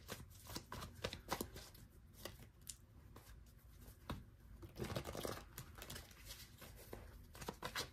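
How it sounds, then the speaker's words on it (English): Tarot cards being shuffled repeatedly, a steady flurry of soft riffling and slapping bursts close by, with no talking. "I'm just gonna shuffle real quick"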